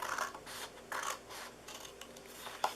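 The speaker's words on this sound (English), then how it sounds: "We are going to cut this long 1/2 inch piece off here on the end." Scissors cutting a long half-inch strip off a paper box template, close crisp snipping and rasping strokes repeated in a steady rhythm, with no voice over them.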